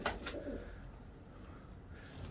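Pigeons coo softly in a loft, a couple of low murmuring coos near the start over a faint steady background hum.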